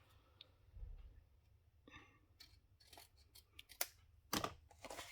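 Scissors snipping through paper card, several short crisp cuts and rustles arriving irregularly and growing louder toward the end, close and quiet with no voices.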